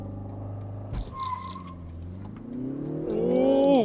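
Engine of a European sports car with 258 horsepower accelerating, its note rising steadily in pitch and growing louder toward the end after a gear change about a second in, heard from inside the cabin.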